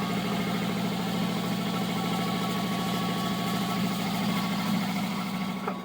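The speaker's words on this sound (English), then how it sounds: "Takes a big engine to run a big crane." A big engine drives the hoist crane at the Mollie Kathleen Gold Mine, lowering an elevator down a 1,000-foot shaft. It holds a steady, loud, low idle-like drone with constant vibration and no talking.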